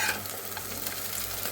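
Small amodi fish fry in oil in a kadai, giving a steady close sizzle with a hiss and spatter that runs without a break, and no talk is heard over it.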